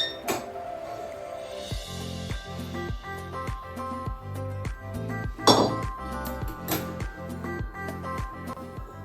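Metal tongs clink repeatedly against a pan or griddle while jowar and ragi bhakri is roasted over a gas stove, with sharp, close, fairly regular taps running throughout and a brief louder clatter in the middle.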